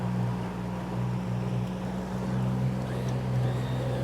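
A Boston Whaler 130 Super Sport motorboat's outboard engine drones steadily with a low, even hum as it gathers speed on the water, close and continuous with no talk.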